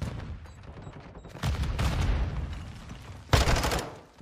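Gunfire in a first-person shooter video game, a few quick bursts of sharp shots separated by short pauses, loud and close with no talk.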